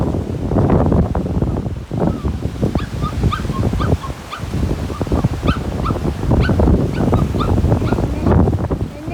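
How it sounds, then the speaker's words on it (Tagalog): A dog whimpers and whines in short, repeated high cries over steady outdoor wind noise on Wale Bay beach, Bermuda, fairly close and continuous throughout. "Nag-ingay-ingay yung aking alaga."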